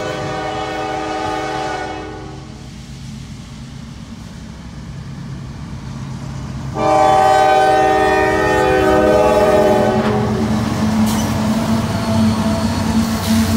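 A train rumbles past close by in Kingsport, Tennessee, its horn blaring in long sustained blasts over the steady roar of wheels on rails.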